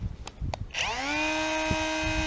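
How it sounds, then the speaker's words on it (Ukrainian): A Prostormer cordless angle grinder spins up with a rising whine and settles into a steady, loud, high-pitched hum. A few soft clicks come before it starts, and a brief voice sits underneath. "Ну, Так вона гудить, так вона працює."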